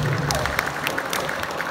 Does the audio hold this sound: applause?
yes